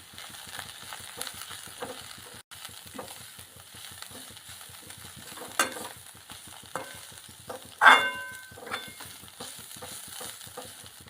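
Radish greens frying with gram flour in a pan, a steady low crackle broken by repeated spoon scrapes and stirring clatter, close and continuous with no talk.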